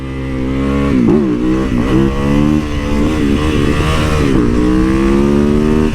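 A bobber motorcycle engine revs hard and close, with loud throttle blips rising and falling over a steady rumbling idle and no voices.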